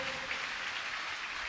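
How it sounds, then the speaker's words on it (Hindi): A church congregation claps together in a steady, dense wash of applause that stays fairly faint and distant, with no clear voices on top. "ताली बजाएं जोर से"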